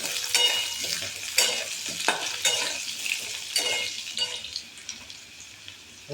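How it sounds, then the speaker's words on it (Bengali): Potatoes fry and sizzle in a wok for a vegetarian curry, a steady bright crackle broken by repeated scraping stirs, close and fairly loud with no voices. "আলুগুলো মোটামুটি একটা ভাজা হয়ে গেছে"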